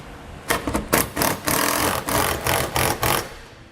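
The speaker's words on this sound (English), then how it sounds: "And tighten everything down. We're using a 3/4 inch socket." Socket wrench tightening bolts on a Curt trailer hitch receiver fitted to a 2015 Volkswagen, using a 3/4 inch socket; a run of close, loud ratcheting bursts repeating steadily for several seconds with no talk.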